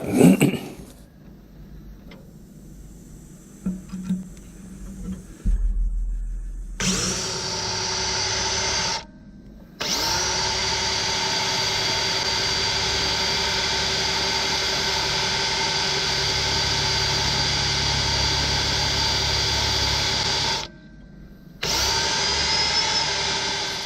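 A Fein ASCM 18 QSW cordless drill bores out a broken-off stud on a winding machine, with long steady whirring runs broken by brief stops, loud and close, after some handling clatter at the start.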